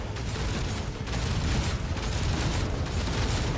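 Gunfire and explosions in the Warhammer 40K: Rogue Trader video game, carried over a vox transmission as a dense, continuous rumble of booms and bursts with no break, loud and heavy in the low end.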